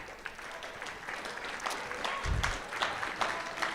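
Audience applause for a student contestant at a Fort Worth ISD school quiz finals, moderate and fairly distant, with scattered claps and a brief low thump partway through.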